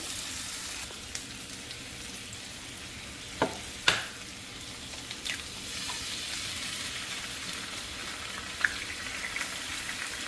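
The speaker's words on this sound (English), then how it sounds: "we're going to crack both eggs and let them cook in the fat as well" Eggs frying in rendered fat in a pan: a steady, close sizzle and crackle running throughout, with a couple of sharp clicks and taps partway through.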